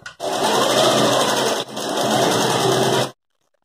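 An electric sewing machine stitches a fabric college bag in two loud, steady bursts of fast rhythmic clatter, separated by a brief pause and ending abruptly.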